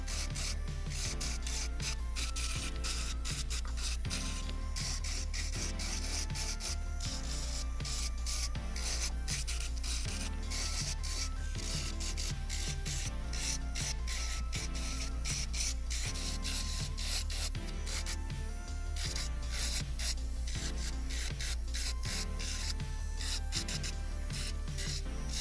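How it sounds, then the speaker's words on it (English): Steady, continuous rasping and rubbing of an electric nail sanding band grinding at fingernails, close up and unbroken throughout, with no voices. "I'm going to take my sanding band and I'm going to remove all of this excess"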